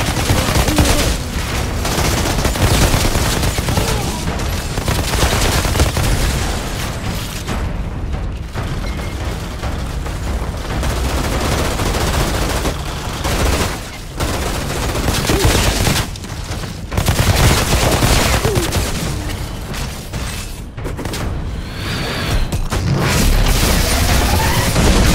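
Gunfire fills a battle in the video game Outriders, dense bursts of automatic shots and heavy booms running loud and nearly nonstop.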